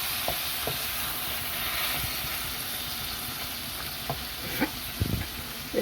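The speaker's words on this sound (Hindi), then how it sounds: "Now we're putting the tomatoes and the onions. And we're just going to cook them till they've gone a bit softer and cooked." Tomatoes and onions fry in a pan for butter chicken, giving a steady close sizzle and hiss with a few soft stirring knocks and scrapes scattered through it.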